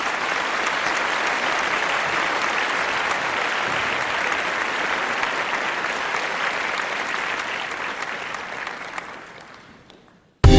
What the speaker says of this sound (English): Give our sister a round of applause.